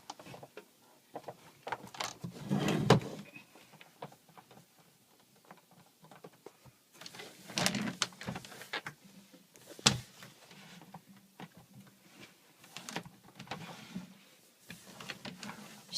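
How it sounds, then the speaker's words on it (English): Irregular knocks, scrapes and plastic clunks as a VWA UCE9000 Turbo water ionizer unit is handled and stood upright, with several louder bumps between quieter rustling. "And now I'm going to stand the unit up."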